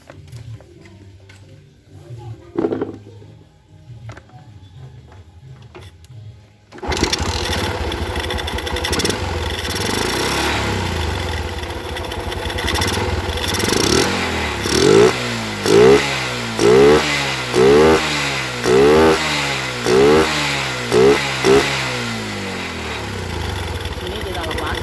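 A Yamaha Jupiter MX motorcycle is started after a quiet stretch with a few light clicks, then idles loudly close by before a run of sharp, evenly spaced throttle revs; the engine has a jammed accelerator pump.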